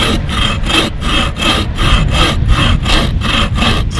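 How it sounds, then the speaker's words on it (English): A hand saw, a local make, cuts through wood in steady back-and-forth strokes, close and loud, with a rasping rhythm of about three strokes per second and no talking. "you just have to let the saw do the work and find a spot where you can actually keep everything together"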